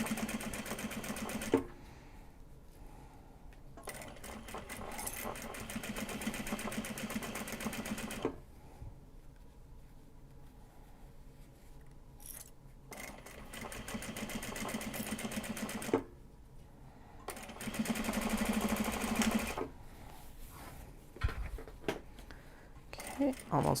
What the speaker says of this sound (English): Almost back through the line of sewing.